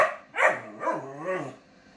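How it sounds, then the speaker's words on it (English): A female puppy barks at a cat indoors, three or four whining, yelping barks in quick succession, close and fairly loud, with no talk over them. "Barking at the cat?"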